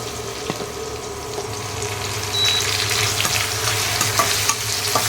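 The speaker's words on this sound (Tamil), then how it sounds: "வெங்காயத்தோடு நம்ம பச்சை மிளகாய் போட்டுக்கலாம்." Onion and green chili sizzle steadily in a hot pan, a loud continuous frying hiss with occasional stirring scrapes and no talk over it.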